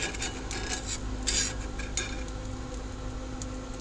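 Onions fry in butter and corn oil in a cast iron pan on a Coleman stove inside a greenhouse, a steady, fairly quiet sizzle broken by the scrape and clink of stirring.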